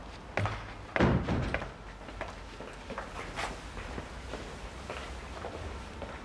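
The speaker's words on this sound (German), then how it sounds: "Schließen Sie die Tür hinter sich." An office door swings shut with a solid slam and a thud, followed by a quieter knock and faint footsteps and movement in the room.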